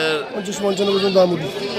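A goat bleats in a long, wavering cry close by at a livestock market in Hoybotpur, with a crowd murmuring faintly behind it.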